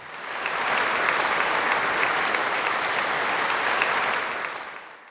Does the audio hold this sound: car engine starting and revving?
no